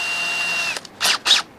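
A power drill fitted with a 5/32 drill bit whines steadily before cutting off, followed by two short, sharp bursts of drilling, close by, with no talk.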